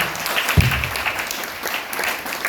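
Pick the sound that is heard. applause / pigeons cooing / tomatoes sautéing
applause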